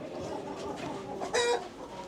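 Rooster in a chicken barn during a deep freeze at minus 25°C, clucking softly in short, fairly close calls with a brief louder squawk near the end.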